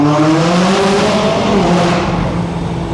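A McLaren sports car accelerates hard from inside the cabin, its engine note climbing steadily in pitch as it revs up, loud and continuous throughout.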